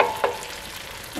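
A short, close sizzle of tomato paste frying in a pan, with a light stir or scrape near the start.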